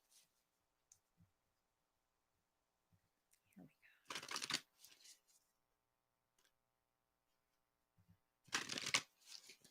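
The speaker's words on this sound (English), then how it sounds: "Let's pick some cards for you." Playing cards are shuffled for a reading in two brief, loud riffling bursts a few seconds apart, close by, with faint ticks and handling sounds between them and no clear talk.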